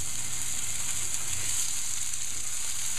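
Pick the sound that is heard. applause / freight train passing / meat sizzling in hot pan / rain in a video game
meat sizzling in hot pan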